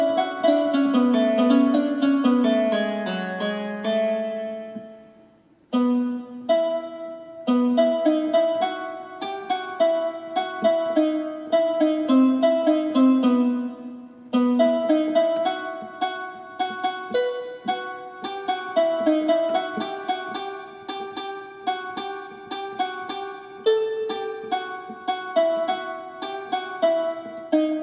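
A qanun voice on an LP6110E oriental keyboard plays an Arabic melody in plucked, shimmering runs and sustained notes, continuous and close with a brief pause near the start.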